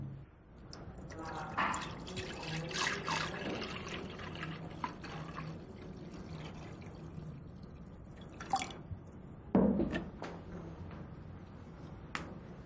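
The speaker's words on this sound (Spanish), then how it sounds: "Miren bien, lo voy a echar solo hasta la mitad de jugo." Juice is poured from one jug into another in a classroom setting, giving soft trickling and dripping splashes in short bursts, faint and close, with a teacher talking over it.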